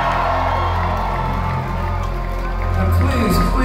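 Concert crowd at a heavy live show cheering and shouting continuously, a dense, loud roar of voices and whoops filling the room without a break.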